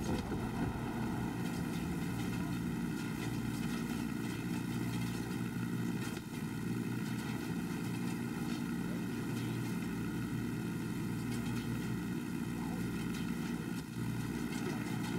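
A helicopter in the video game Ghost Recon Breakpoint drones steadily throughout, a constant rotor and engine hum with layered tones and no voices.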